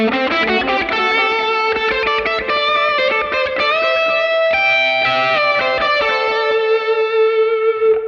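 Electric guitar played through a Line 6 Helix with a big reverb and double delays, ringing chords and sustained notes washing into long, echoing ambient tails.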